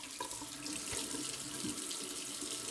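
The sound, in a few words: tap running, rinsing with cold water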